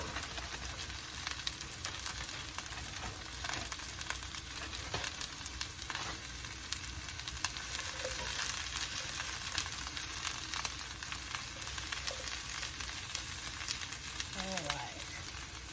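Brussels sprouts sizzle and fry in a pan with browned onions for a keto cheesy bacon casserole, giving a steady crackling hiss throughout with brief faint clicks and a voice talking over it.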